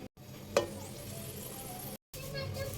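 Noodles cooking in a covered pan give a steady low sizzle and bubbling hiss, close by and moderate in volume, with one sharp knock near the start and a brief cut-out of sound partway through.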